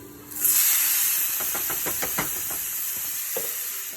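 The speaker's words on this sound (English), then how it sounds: "Just lower it down a little bit, just because it's gonna sizzle" A steady, loud hiss of tomato and onion sizzling in a hot pan, with a few soft knocks from stirring.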